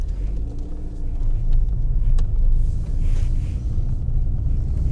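Low engine and road rumble inside an older R53 Mini Cooper on the move, a steady drone with faint knocks and rattles from aging interior plastics on a rough ride.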